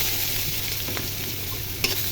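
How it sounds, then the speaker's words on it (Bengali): Chopped onions sizzle steadily in hot oil seasoned with cumin and a bay leaf for a tomato tengra fish bhuna, stirred with occasional spatula scrapes and a sharp clink near the end. "পেঁয়াজ কুচি দিয়ে নেড়ে চেড়ে ভেজে নিব।"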